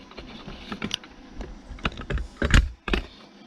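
Metal calipers are handled for measuring the overall length of 7.62x39 reloaded cartridges with 155gr lead bullets: a series of small clicks, taps and sliding scrapes, close up and irregular, with no talk.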